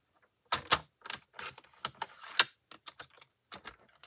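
A paper trimmer blade slices paper for a folding card, heard as a series of close, crisp clicks and short scraping strokes in an uneven rhythm, some louder than others, with no voices.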